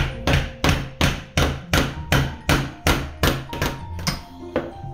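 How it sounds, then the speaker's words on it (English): A chisel is struck against the hard block of a kids' fossil excavation kit in about ten evenly spaced sharp taps, each a loud close knock with a brief ring, with no talking. "I'm gonna use my chisel."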